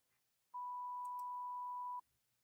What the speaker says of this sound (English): did you hear that beep?